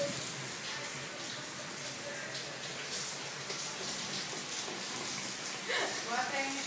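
Rain leaking through a house roof into the bathroom patters steadily inside a small echoing room, with a faint watery hiss throughout and a person speaking briefly near the end.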